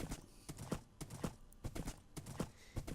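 Minecraft horse hooves clopping in quick irregular beats as the horse runs around a track, fairly faint and with no talk over it.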